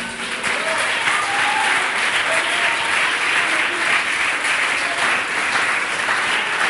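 Congregation applauding in church during a worship service, steady dense clapping that fills the space loudly and continuously from start to end, with no voices standing out.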